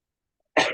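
A single short cough from a person with a cold, sudden and fairly close, with silence before it and no talking.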